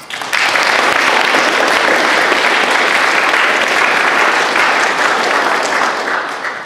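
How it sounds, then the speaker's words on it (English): Sustained audience applause at a live channeling event with Q&A in Victoria, a dense even wash of many hands clapping that starts abruptly and holds steady for several seconds before tapering slightly. "Give yourselves a round of applause."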